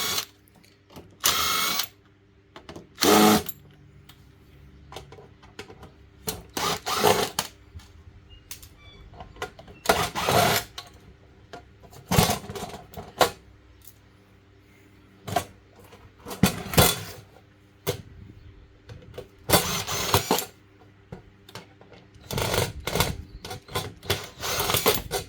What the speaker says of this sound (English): So I'll just take all these screws out and see what we've got to play with.